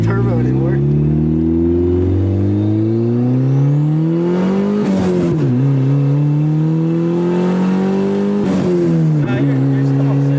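A turbocharged Honda Civic fitted with an eBay EMUSA turbo revs hard under acceleration, its loud engine drone climbing steadily through the gears with brief dips at each shift, heard from inside the car while people talk over it.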